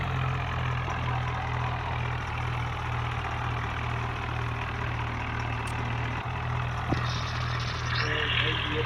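Steady mid-low engine idle of a tractor in a video game, droning continuously throughout, with a faint click near the end.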